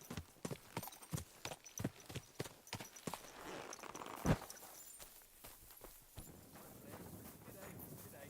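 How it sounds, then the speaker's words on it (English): A horse in Kingdom Come: Deliverance II clops along in a steady, evenly spaced walking rhythm of hoof strikes, fairly close, with some voices faintly underneath. "Oh, horsey."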